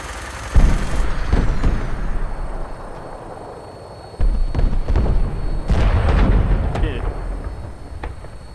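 Explosions in Fallout 4 set off near a house, heavy booming blasts with rumbling low-end, one early and another burst midway that sustains loudly for several seconds.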